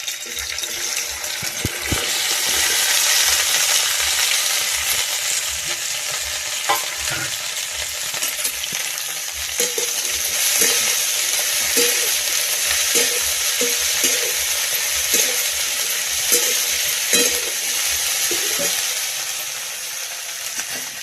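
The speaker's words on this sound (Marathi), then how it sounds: "आता टाकून घेऊ भेंडी तेल तापल्याची." Okra (bhindi) frying in hot oil gives a loud, continuous crackling sizzle, with regular spatula scrapes and knocks against the pan throughout a long stretch, and no one speaking.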